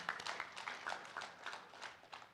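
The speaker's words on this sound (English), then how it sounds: "I think they even deserve a bigger clap from all of us." Faint, distant audience applause at a national tuberculosis and leprosy stakeholders conference, a steady patter of many hands clapping throughout, with no talk over it.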